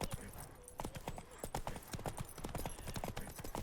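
Roach the horse gallops in The Witcher 3, rapid rhythmic hoofbeats close and continuous, with someone talking over them and a faint neigh.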